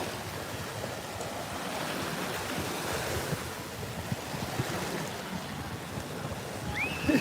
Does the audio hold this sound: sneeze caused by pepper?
no